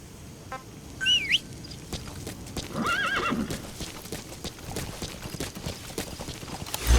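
A horse whinnies once in Metal Gear Solid 5: The Phantom Pain, then hooves clip-clop steadily at a moderate pace, with a few bird chirps scattered around.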